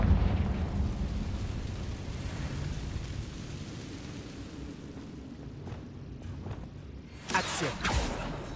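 Confringo, a fiery curse spell in Hogwarts Legacy, erupts with a long rumbling roar that fades, then a sharp burst lands near the end, with some speech in the background.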